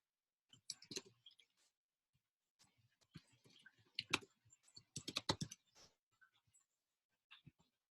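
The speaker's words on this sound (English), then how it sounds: "I'm actually going to type out the answer" Someone types on a computer keyboard in sparse, uneven bursts of soft close clicks separated by quiet pauses.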